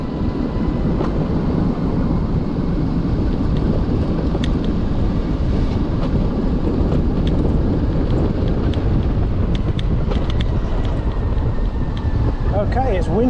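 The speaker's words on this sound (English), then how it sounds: "Okay, it's windy AF." Strong wind buffets the microphone in a steady roar for the whole stretch, heard outdoors during a ride, with a few faint clicks and no clear speech.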